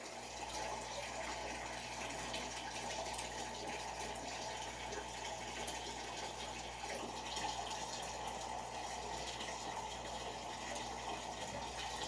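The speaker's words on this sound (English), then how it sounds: "Just siphoning." Water being siphoned out of a home fish tank into a bucket, a steady, continuous trickling and gushing flow with a low hum underneath, fairly faint and unbroken, with no voices.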